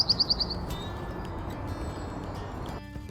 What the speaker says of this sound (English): The birdsong featured in question 5 is that of one of our smallest birds, the wren.